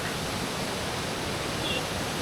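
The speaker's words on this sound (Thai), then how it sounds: "เรานอนกันที่ น้ำตก ตาดกลางนะครับ" Tat Klang waterfall pours beside a campsite, a dense, even roar of falling water filling the whole clip with no voices.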